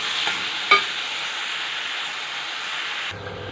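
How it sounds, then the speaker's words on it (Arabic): Onions sprinkled with salt fry and brown in a pan for sayadiyah fish, giving a steady soft sizzle with a brief utensil clink, before cutting abruptly near the end. "هنا بفضل احمر في البصله بتاعت الصياديه يا حبايب قلبي بتحمر قوي"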